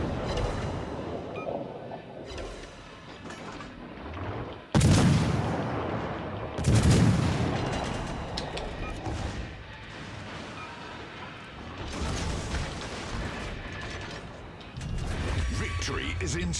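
Heavy naval guns from the battleship Colorado firing in a naval combat video game, loud booming salvos at about five and seven seconds over a constant rumble of engine and battle noise, with a voice talking throughout.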